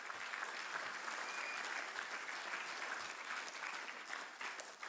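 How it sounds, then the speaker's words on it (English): An audience at a Hall of Fame induction ceremony applauds, a dense, steady wash of clapping that holds at an even level throughout without a break. "Can I get a round of applause?"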